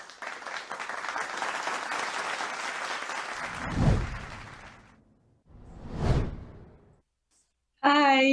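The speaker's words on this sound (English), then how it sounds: "Let's give her a big round of applause," An audience at an online book launch claps to welcome a speaker, with steady applause for about four seconds before it thins out, followed by a couple of dull thumps and a short electronic tone at the end.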